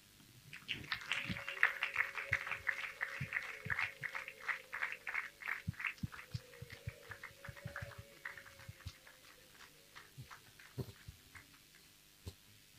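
Women ululating in celebration at a Rwandan wedding dowry ceremony, a high trilling chorus that carries loudly through the first half over rhythmic hand claps and then fades, leaving scattered claps.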